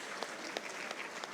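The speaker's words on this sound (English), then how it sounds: "Please, a round of applause again for all our presenters." A conference audience at a technical session applauds the presenters, with soft, continuous clapping heard from a distance and a few sharper claps standing out briefly.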